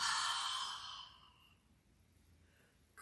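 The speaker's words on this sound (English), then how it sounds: "take a nice deep breath in, open mouth, exhale" A deep open-mouthed exhale during yoga breathing, a breathy rush that is loudest at the start and fades over about a second and a half into quiet.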